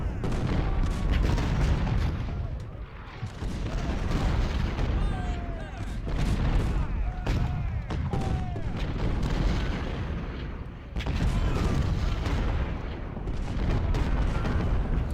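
Cannon fire from an artillery battery in Ultimate General Civil War, set at the Battle of Fredericksburg, rolls in as dense, repeated booms under a continuous battle din, loud and close, with no pauses throughout.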